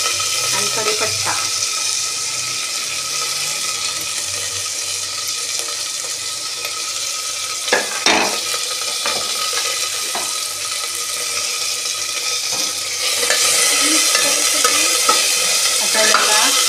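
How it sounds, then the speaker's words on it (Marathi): Green Satara chillies, peanuts and curry leaves roast in a pan while being stirred, giving a close, steady hiss with scraping stir strokes and a few sharp clatters, growing louder near the end. "आता याला चांगलं हलवायचं, मिरची चांगली भाजेपर्यंत."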